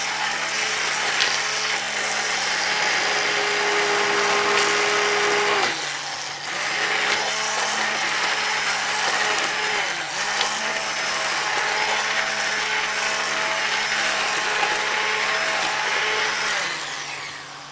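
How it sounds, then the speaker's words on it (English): A blender purees red pepper with a clove of garlic, its motor whirring loud and steady, with a brief break near the middle before it runs on. "I think we're going to whiz up one clove of garlic in with the red pepper"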